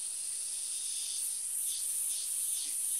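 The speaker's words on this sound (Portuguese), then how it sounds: "o cantar das cigarras." Cicadas in a natural outdoor setting buzz in a steady, loud, high-pitched drone that holds without a break, with no voices present.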